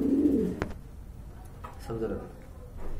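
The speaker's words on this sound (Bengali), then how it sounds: "এক জোড়া গড়া কবুতর দেখতে পাচ্ছেন" A pair of pigeons gives a few soft, low cooing calls at close range, briefly interrupted by a sharp tap or wing flick, with faint background noise.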